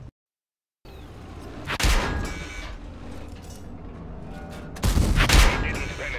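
A tank cannon fires in the World of Tanks game in Steel Hunter mode on a Walküre: two loud, sharp booming shots a few seconds apart over a continuous engine rumble, with no talking.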